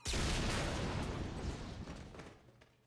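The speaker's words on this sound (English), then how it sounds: "Explosion noise." A loud explosion bursts out in Mass Effect 3 as a failsafe goes off, a dense broadband blast that peaks at once and then rumbles and crackles with debris as it slowly fades.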